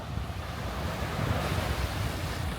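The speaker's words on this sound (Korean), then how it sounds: "와 아까보단 좀 파도가 세진 것 같네요 아까보단 파도가 좀 세졌어요" Ocean waves breaking and surging near the shore at Yangyang Surfyy Beach, a steady loud wash of surf with wind buffeting the microphone and no voices.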